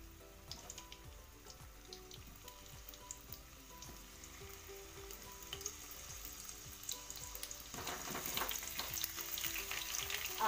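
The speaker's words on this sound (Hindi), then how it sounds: "आलू को हम अच्छी तरह फ्राई कर लेंगे और इसको पक जाने देंगे।" Potatoes frying in hot ghee, a soft, steady sizzle with scattered crackles, close but quiet, rising to a louder, busier hiss toward the end.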